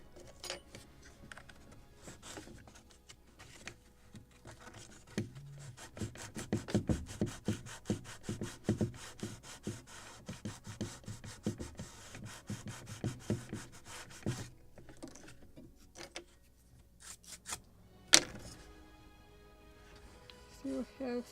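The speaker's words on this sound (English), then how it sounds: "So more sanding here." Sandpaper rasps back and forth across wooden planking on a model gunboat, Philadelphia of 1776, in quick, uneven bursts of scratchy rubbing, close and fairly quiet, with light taps and clicks between strokes.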